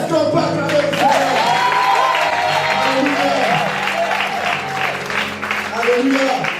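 Church congregation applauding and cheering for the Lord during a French-language gospel service, with sustained loud clapping and raised voices over sung or held tones filling the whole stretch.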